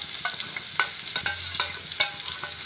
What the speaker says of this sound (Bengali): নাড়া হচ্ছে, একটু লাল লাল করে ভেজে নেব এটা।